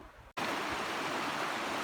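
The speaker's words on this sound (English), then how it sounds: "I'm down here by the creek now" Steady rushing of creek water flowing close by, a dense continuous wash that starts abruptly after a brief silence and holds loud and even to the end, with no voices.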